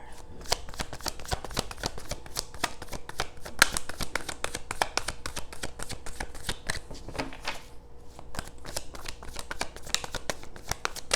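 Tarot cards are shuffled and pulled in a rapid run of crisp riffling, flicking snaps close up, nearly continuous with a brief pause midway before it resumes.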